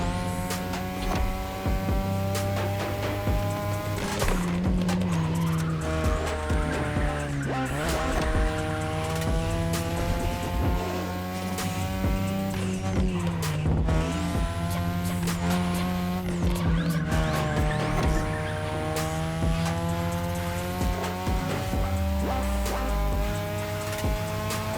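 A car drifting on a Japanese touge mountain road in The Crew Motorfest: a high-revving engine whines steadily while tires squeal in long sliding arcs through several corners, loud and continuous with no voices.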